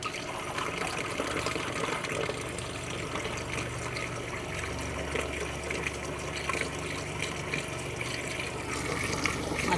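Cold water pours steadily from a camper van tap while the fresh tank is flushed with bleach, a continuous close splashing flow with a low pump hum beneath it.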